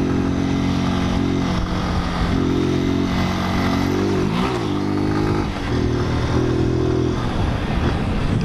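A delivery motorcycle engine runs steadily while riding through the south zone of São Paulo, loud and close, with its pitch rising and falling as the throttle changes and no talk over it.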